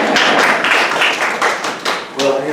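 An audience at a UC Berkeley symposium claps in a short burst, sharp individual hand claps near and loud, fading slightly before a voice begins at the end.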